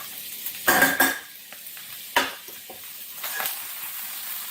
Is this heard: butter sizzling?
yes